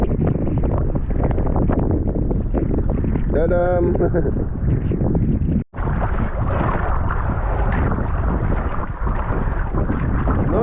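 Strong wind buffets a microphone while paddling across the Curonian Lagoon between Nida and Klaipėda, a steady loud roar filling the whole stretch, with a brief voice exclamation midway and a short dropout just after.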